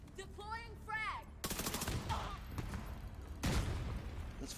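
An MP5 fires in The Division 2, dense close bursts of rapid shots after a brief stretch of voice, with a second loud burst near the end.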